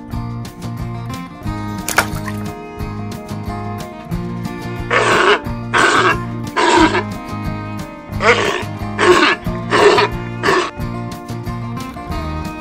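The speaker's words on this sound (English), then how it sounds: "Sea lion, sea lion." A sea lion barks in two bursts of three gruff, hoarse calls, loud and close, with gentle music playing underneath.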